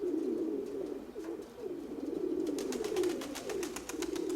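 Pigeons coo in a low, continuous, rolling murmur nearby inside a pigeon loft, with a few faint clicks and flutters toward the end.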